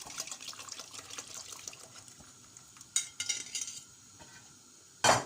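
Quiet stirring of maja blanca with cornstarch in a pot, soft wet scraping and utensil clinks, with a couple of louder knocks against the pot near the middle and end.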